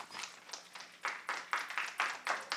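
Audience members clap at a planning commission meeting, a fairly sparse, rhythmic patter of hand claps in a steady beat of about two claps per second, moderately close in an indoor room.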